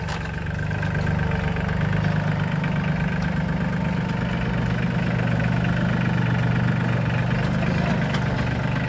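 Solis Yanmar 26 mini tractor diesel engine idling close by, a steady loud low chugging rumble with even knocking rhythm throughout, no talk over it.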